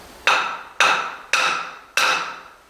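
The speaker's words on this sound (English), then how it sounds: "with a hammer, that little bit of force on there" A hammer taps a part of a Wright skiff during boat building, giving four sharp, evenly spaced strikes that ring briefly, close and clear with no talking.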